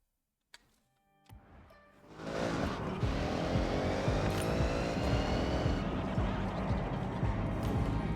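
A car engine in Forza Horizon starts quietly, then revs up hard at about two seconds and holds a loud, sustained high-rpm roar, with faint traffic cars around.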